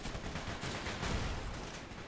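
MG34 machine gun fire in a World War II strategy game battle on the Maginot Line, a dense rattling barrage of gunfire mixed with rumbling battle noise, loud and continuous throughout.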